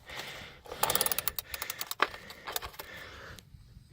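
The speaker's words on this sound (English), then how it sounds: "now we're gonna finish off with the socket. Okay, now we got on tightening mode." A ratchet socket wrench clicks in rapid bursts as it tightens an oil drain plug on a Toyota Camry, the metallic pawl ticks close and fairly loud with short pauses between strokes.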